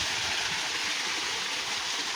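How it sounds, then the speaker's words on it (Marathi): Spring water flows steadily with a constant rushing hiss, like a small stream pouring close by, with no pauses, in a Konkan village beside a temple. "इथून वरून झरा येतो आणि स्वच्छ पाणी आहे बघा इकडे"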